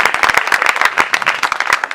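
Congregation at a village church service clapping together, a fast, loud burst of many hands with sharp individual claps, near and steady throughout.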